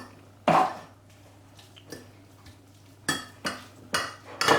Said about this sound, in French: Je mets les thon et je l'écrase.